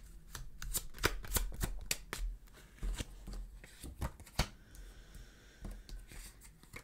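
Tarot cards being drawn and shuffled in quick, crisp riffling bursts, close and fairly loud, followed by a few softer card slides and taps near the end, with no voices.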